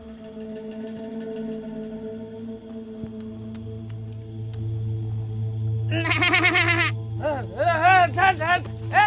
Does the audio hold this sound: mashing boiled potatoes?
no